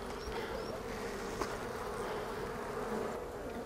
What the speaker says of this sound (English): There's a bee on this side that is...